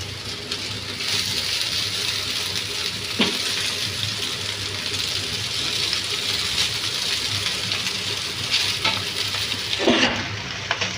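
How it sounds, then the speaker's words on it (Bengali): Boiled, oil-coated spaghetti noodles sizzle steadily in a pan with fried onions, with occasional scraping stirs and louder clatters against the hiss, close up and without talk. "পেঁয়াজটা ভাজা হয়ে গেছে, এখন আমি সেদ্ধ করা স্প্যাগেটি নুডলসটা দিয়ে দেবো।"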